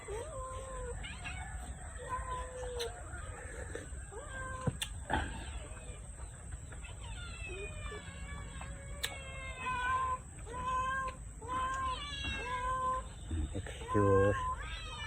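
Several cats meow repeatedly, some drawn-out and wailing, overlapping one another at close range over a steady background hum.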